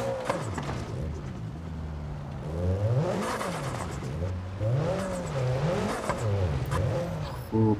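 A Peugeot 405 crawls off-road in BeamNG.drive, its simulated engine droning and revving in rising and falling waves, loud and steady throughout with no talking.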